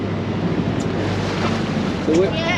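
Choppy sea waves slosh and splash at the surface off Guernsey's west coast in the Channel Islands, just after a scuba dive. The water noise is continuous and close, with wind and a faint voice in the background.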